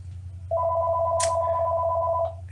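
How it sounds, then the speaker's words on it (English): A mobile phone rings outdoors in a wildlife area full of crocodiles and birds: one sustained, steady electronic two-tone chime lasting about two seconds, fairly loud and close, over a constant low rumble, with a brief hiss midway. "And my phone's ringing."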